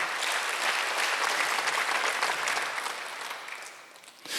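Congregation applauding during a Korean church Sunday worship service at Jesus Center Church, a dense, steady wash of clapping that holds strong before thinning slightly near the end.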